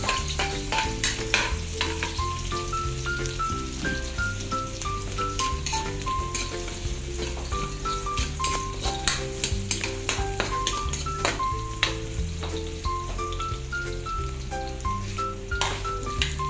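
Garlic sautéing in a pan as the first step of cooking pancit, with a steady bright sizzle and stirring throughout, and background music playing over the frying.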